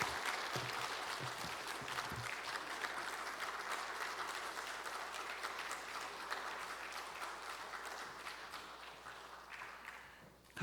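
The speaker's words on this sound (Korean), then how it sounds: "우리 박수로 환영하겠습니다" A church audience at a Friday evening gathering gives a soft, steady round of applause to welcome a speaker, a dense patter of many hands that sounds somewhat distant and tapers off at the end.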